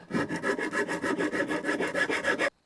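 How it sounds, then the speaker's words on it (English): Rhythmic hand-tool strokes on wood while shaping a handmade guitar body, about fifteen even scraping passes close up over two and a half seconds, with no talk. "I'll go and chisel the other side."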